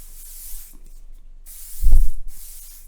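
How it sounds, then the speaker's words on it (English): Aerosol hairspray hissing out in three short bursts close to the mic, with a soft thump under the middle spray. "this is the last thing you'll wanna spray in your hair before you leave your house"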